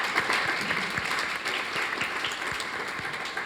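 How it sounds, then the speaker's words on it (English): Steady applause from a crowd at a ballet school awards ceremony, a continuous wash of clapping at moderate volume that holds throughout without any voices. "help me in giving you a round of applause for your achievement"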